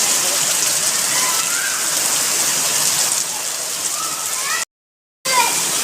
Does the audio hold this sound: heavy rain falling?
yes